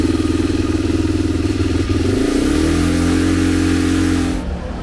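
A go-kart engine, just repaired, idles with a rapid even putter, then revs up sharply and holds a higher buzzing note before cutting back near the end, close and loud with no talk.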